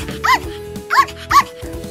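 Three short, high-pitched yapping barks from a small cartoon dog, evenly spaced and close, over a faint steady background tone.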